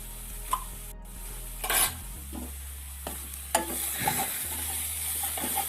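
Onion flower thoran being stirred in a pan: scraping spoon strokes and occasional clinks of metal on the pan over a steady low sizzle, close by, with no talking.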